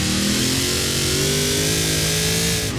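Toyota car engine in the racing game Forza Horizon 4, a loud sustained mid-pitched engine note rising steadily as it revs, with a rich harmonic growl and no speech.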